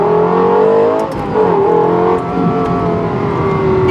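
A 2012 Lexus LFA engine revs loud and close, with rising and falling harmonic whine, a brief dip near the first second, and sharp climbs that settle into a sustained high-pitched howl.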